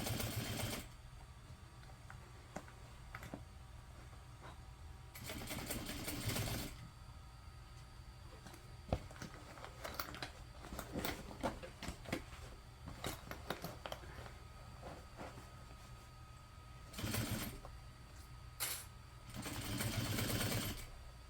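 A sewing machine fitted with a Teflon foot stitching vinyl for a large apothecary tote, running in several short bursts with pauses and small handling clicks between, close but fairly quiet.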